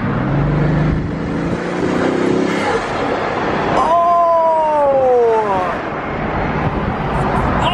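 A luxury car driven by a woman accelerates hard, a loud close engine roar rising in pitch as it pulls away, with talk and cabin noise over it.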